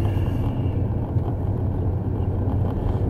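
Steady low rumble of a car's engine and road noise as it accelerates onto a freeway, with a wind-buffeted microphone and no talk.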